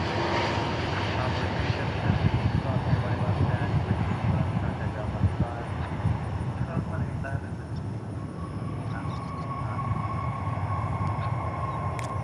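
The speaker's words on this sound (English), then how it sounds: "here's Frankfurt arriving on the Dreamliner. 787-8 American 71 Heavy." An American Airlines Boeing 787-8 Dreamliner arriving from Frankfurt at DFW Airport, a low, rumbling jet engine roar that swells early and then settles into a steady drone with a faint whine, heard without talk.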